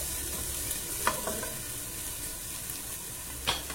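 Vegetables frying lightly in a pan for fried rice, a soft continuous sizzle broken by two brief utensil scrapes, close and quiet, with no voices.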